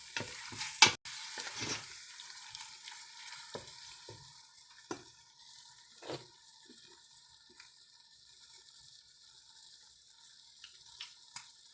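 Broth splashes into a hot pot and sizzles faintly while a spoon scrapes and stirs the bottom in scattered soft strokes during beef stroganoff cooking.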